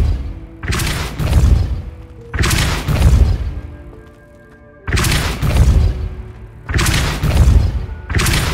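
Repeated Depulso force-push spell blasts in Hogwarts Legacy, four heavy booming thuds with crackling impact tails arriving roughly every two seconds, loud and close, with no talking.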